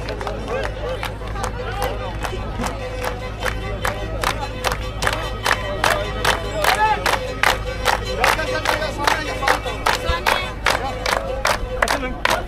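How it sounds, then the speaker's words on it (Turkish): A crowd at the Göllüalan highland festival in Şalpazarı claps in steady rhythm for a horon folk dance, each clap sharp and evenly spaced. Crowd murmur and shouts run underneath. "Horon oynamayanlar, horon oynayanlar çok çok kuvvetli alkışlayalım."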